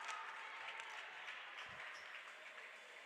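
At a varsity boys high school basketball game, a gym crowd applauds and cheers after a blocked shot, a steady, faint, distant roar of clapping and voices lasting about three seconds.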